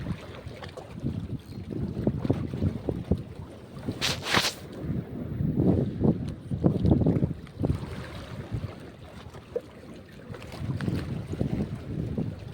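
Gusty wind buffets the microphone over the rumble of a fishing boat on open water, with a brief sharp hiss partway through.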